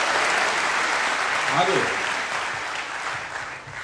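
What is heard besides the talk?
audience applause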